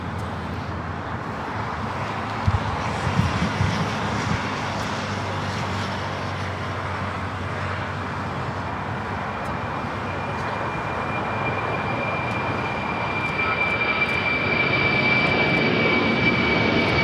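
The last Boeing 747-400 freighter built takes off on runway 25 left at LAX, its engines building from a rumbling roll into a sustained loud roar, with a thin whine rising later.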